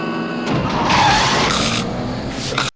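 A car skidding in a film scene, tires squealing loudly across a sustained slide before the sound cuts off abruptly.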